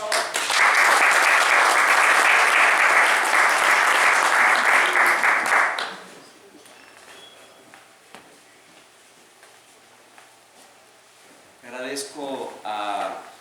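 An audience at a Masonic conference on the winter solstice applauds to welcome a speaker: loud, steady clapping for about six seconds, then fading, with talk and movement in the room afterward.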